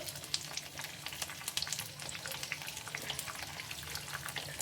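Egg pepper fry roasting in a pan over a medium flame, giving a steady close sizzle with fine crackling pops throughout and no voices.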